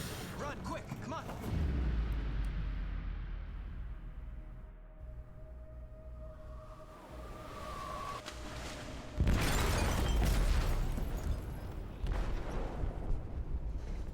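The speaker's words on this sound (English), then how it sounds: "They detonated an explosive in the hold" A massive explosion detonates inside a ship's hold in the video game Detroit: Become Human, with deep rumbling booms that fade and then surge again into a heavy, roaring blast.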